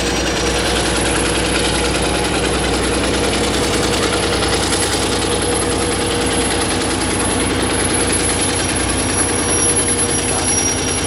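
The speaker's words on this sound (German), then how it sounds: "diese dieselelektrische Lokomotive in Lizenz von General Motors wurde von der Firma Henschel gebaut" A Henschel-built diesel-electric locomotive, made under General Motors license and rated at 1500 horsepower, rumbles with a loud, steady, deep engine drone close by at a rail parade in Strasshof an der Nordbahn.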